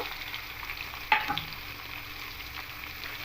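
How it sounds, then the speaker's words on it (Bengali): Vegetables including pumpkin sizzle in hot oil in a pan, with a steady frying crackle and one brief scrape as they are stirred. "ভালো করে তেলের সঙ্গে সব সবজিগুলোকে মিশিয়ে নেব"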